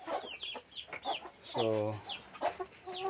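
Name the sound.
free-range village chickens clucking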